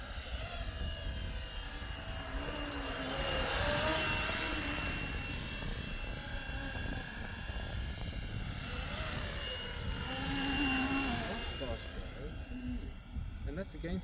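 A 3D printed Flywing MD500 RC helicopter with orange blade tips flies outdoors, its steady rotor and motor whine rising and falling as it passes nearer and farther, with people talking over it.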